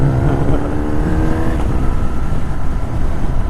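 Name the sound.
old MG car engine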